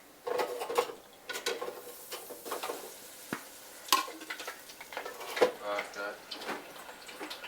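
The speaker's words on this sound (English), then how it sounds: "Now I'm just going to deep fry them, and I'm going to fry them to the golden brown" Filled jalapeño poppers deep frying in hot oil give a quiet, steady bubbling sizzle, broken by repeated light clinks and stirring clatter of utensils against the pot.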